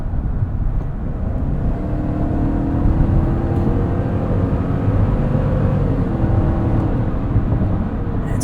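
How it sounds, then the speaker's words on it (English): A 2023 GMC Yukon Denali Ultimate with a 6.2L V8 is heard from inside the cabin as it takes a corner, a steady, loud low engine drone and road rumble with no talking. "Hustling the Yukon Denali around a corner here"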